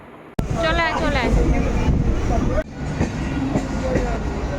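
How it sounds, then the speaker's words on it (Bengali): A train passes close by with a loud, steady rumble that carries through the whole stretch, while people talk over it. "ট্রেন চলে যাচ্ছে"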